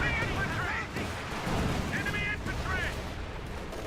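A white phosphorus artillery barrage in the real-time strategy game Company of Heroes 2, a dense rumble of distant shell bursts under a commentator's talking, fairly faint overall.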